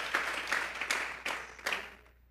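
A church congregation applauds, a short burst of brisk, dense clapping that fades out quickly.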